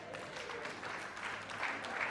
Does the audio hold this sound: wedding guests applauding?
yes